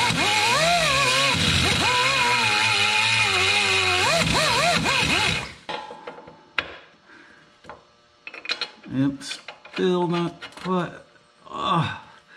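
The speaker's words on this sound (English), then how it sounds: "So I have to grind this out." A grinder takes metal off a Toyota Corolla control arm with a loud, whining tone that rises and falls in pitch for about five seconds, then stops. Talking and scattered clanks follow.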